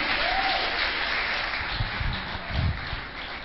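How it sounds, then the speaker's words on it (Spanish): Church congregation clapping during worship, a dense wash of hands heard close and loud for a few seconds, with faint voices underneath. "dele palmas al Señor"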